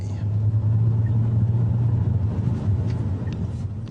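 Car driving slowly around a residential block, a steady close low engine hum and road rumble throughout with little change in pace.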